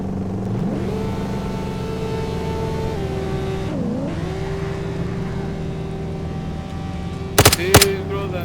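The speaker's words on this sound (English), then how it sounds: "look at this Koenigsegg" A Koenigsegg car engine in the video game DayZ revs up from idle, holding a loud, steady drone with shifts in pitch, ending with a couple of sharp bursts.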